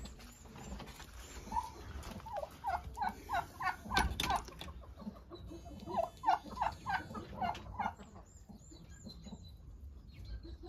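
Backyard hens cluck and chatter in bursts of rapid, repeated notes, with a louder clatter partway through. The calls sound close and moderately loud over a busy farmyard background, and no one speaks.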